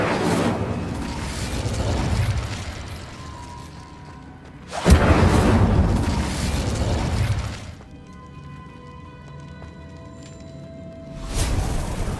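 An Incendio fire spell in the Hogwarts Legacy video game goes off as a loud whooshing, crackling blast, followed by more booming bursts against a rumbling game background with no talk.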